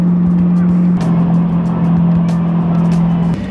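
A Chevrolet Corvette cruising on the road in fine weather, its engine holding a steady, loud low drone over constant road and wind noise, with a brief shift in tone near the start and a change just before the end.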